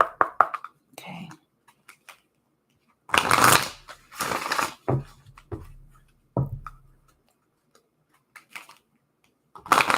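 A deck of tarot cards is riffled and shuffled in several close bursts, crisp papery flutters separated by quiet pauses, with a few soft taps between.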